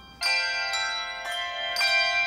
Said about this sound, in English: The handbell group in Dunblane Cathedral started in 1977.